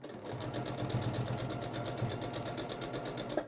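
A sewing machine stitches two fabric pieces together for a quilt project, its needle chattering in a fast, even rhythm that runs continuously and close by without pause.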